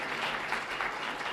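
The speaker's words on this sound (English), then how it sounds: "Round of applause for Nate and Carrie, please." A brief burst of audience applause at a Manitou Springs election forum, dense steady clapping from a crowd greeting candidates, moderately loud and without voices.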